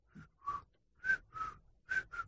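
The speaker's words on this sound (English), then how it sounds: "Wow, that was an awful attempt at whistling." A person makes a clumsy attempt at whistling, producing six short, breathy, wavering notes in an uneven sequence, close and fairly quiet.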